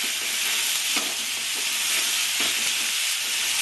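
Pointed gourd (potol) fries in hot oil with turmeric in a pan, giving a close, continuous sizzle with a few soft stirring knocks and no voices.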